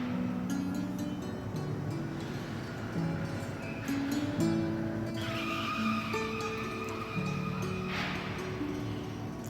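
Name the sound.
cars being driven aboard ship during cargo loading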